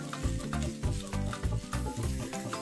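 Eggs and spring onions fry in a hot pan while being stirred, giving a close, steady sizzle broken by repeated scraping strokes of a utensil at a quick, uneven rhythm.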